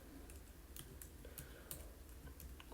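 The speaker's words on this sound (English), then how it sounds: "I'm gonna type in my prompt." Quick keystrokes on a computer keyboard as a prompt is typed, irregular soft clicks with a few sharper taps, faint and close over a low background hum, with no voices.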